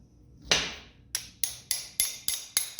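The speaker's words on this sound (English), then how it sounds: "I slide them in, I tap them in with the hammer." A hammer taps parts into the connecting rods of a Ford 302 small-block engine: one softer strike, then six sharp metallic taps in a steady rhythm, close and clear with no talk.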